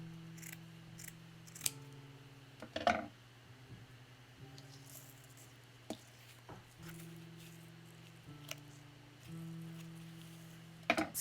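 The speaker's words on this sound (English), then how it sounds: "I think I'm going to cut it just a little bit more." Scissors snipping paper for a fall foliage craft, a series of quiet crisp cuts at irregular intervals, close by, with faint paper rustling and a low steady background hum.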